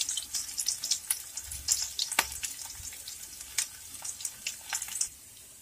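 Cumin, garlic and ginger fry in a pan with continuous crackling sizzle and sharp popping spits, close and fairly loud, then the sound drops away suddenly near the end; no talk.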